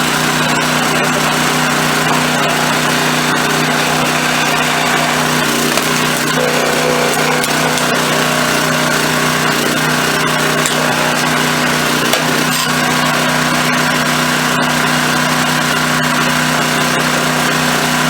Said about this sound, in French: c'est ce bruit-là que je vous disais au niveau des manettes, qui est un peu embêtant.